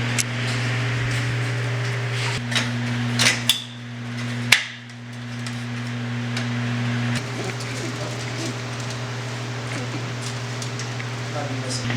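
Kidney grilles are fitted onto a BMW E36 front end, with a few sharp clicks and knocks rising above a steady background hum.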